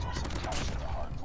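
Rapid gunfire from an SMG in Call of Duty Mobile, a dense continuous burst of shots filling the short moment, loud and close with game sounds blended in.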